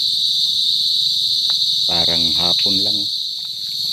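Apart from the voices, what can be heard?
crickets chirping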